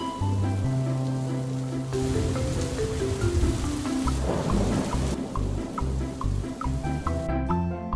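Rain pours steadily in a cartoon, a dense continuous hiss with occasional droplet plinks, layered under music.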